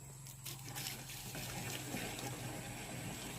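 Water runs in a continuous, steady gush, like a tap or flowing stream, close by and unbroken for the whole stretch.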